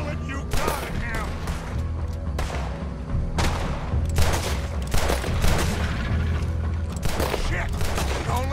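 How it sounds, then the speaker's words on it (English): Heavy, chaotic gunfire in Red Dead Redemption 2, with dense overlapping shots and booming blasts in a long volley, while voices shout over the shooting. "Put every bullet you got in him!"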